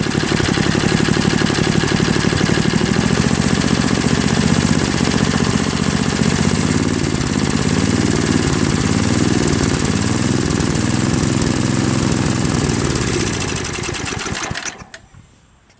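A Craftsman 522 snow blower with a Tecumseh engine, up close, running loud and continuous with a rapid rattling buzz as it throttles up, then sputtering and dying near the end.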